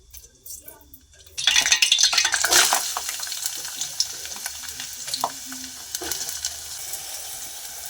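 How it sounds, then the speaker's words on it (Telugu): Brinjals and potato hit hot oil in a pan with a sudden loud sizzle after a quiet second, then keep frying as a spoon stirs and scrapes, with occasional metal clinks against the pan. "ఈ వంకాయలు ఎప్పుడో చేను తెచ్చిన వంకాయలు ఇప్పుడు వండుతున్నాను"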